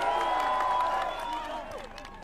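Crowd at a political rally in Samburu, Kenya, clapping and cheering steadily, a dense wash of applause that holds loud and then eases slightly toward the end.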